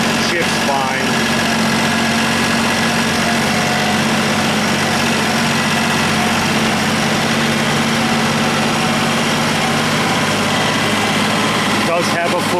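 A John Deere 1050 tractor engine runs close and loud, a steady low diesel drone with constant vibration that never lets up.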